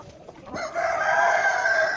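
Australorp rooster crowing nearby, a single drawn-out crow rising after a few soft clucks from chickens.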